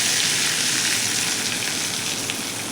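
Cumin seeds sizzling for tempering in hot butter and oil in a pan, a steady close crackling hiss with no talk.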